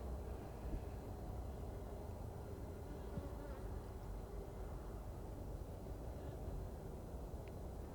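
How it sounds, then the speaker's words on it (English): A swarm of honey bees fanning their wings on a hot day makes a steady, dense buzzing drone that holds evenly throughout without pause. "If you see the bees with their butts up in the air, flapping their wings, that's called fanning."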